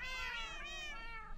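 Cats meow in a video game farm scene: a single drawn-out, wavering meow, close and clear with no talking over it.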